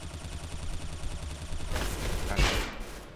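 Gunfire in the Roblox shooter Arsenal: a rapid, dense rattle of shots runs throughout, with a louder burst near the end, and no talking over it.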